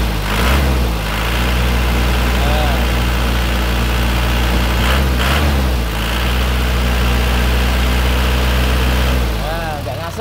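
An Isuzu Panther 2.5 engine is revved with the dipstick removed; a loud, heavy diesel drone rises and falls in two or three revving surges over a steady idle, with a person talking underneath.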